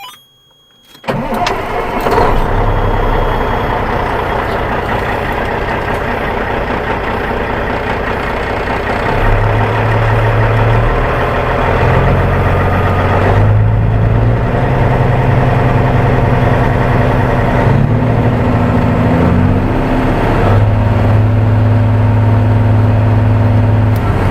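A Caterpillar 1693 diesel engine cranks and catches, then settles into a steady, loud idle that holds throughout with slight shifts in pitch, no talking.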